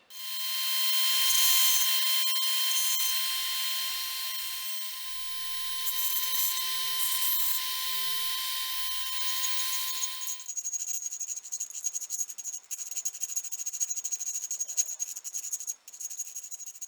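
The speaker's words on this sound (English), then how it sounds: "I'm going to take this sharp corner and round it off on both sides" A high-speed rotary tool grinds the sharp corners off a Ruger Mark III magazine, a loud steady whine for about ten seconds, followed by quieter scraping and rubbing on the metal.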